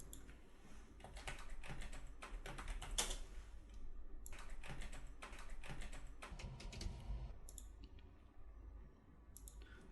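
Fingers typing ID card details on a computer keyboard, a steady run of quick clicking keystrokes in bursts with short pauses, close and clear with no talking.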